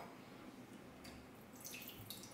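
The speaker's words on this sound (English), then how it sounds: "The lip stayed down, which meant that the water was dribbling down the side." Water from a Soma water pitcher trickles and dribbles down its side while pouring, a soft splashing stream that is faint and continuous, with slightly brighter spattering toward the end and no talking.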